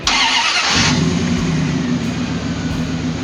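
A 1994-2001 Dodge Ram 1500 pickup engine cranks briefly with a bright whirr, then catches and settles into a steady, close idle rumble.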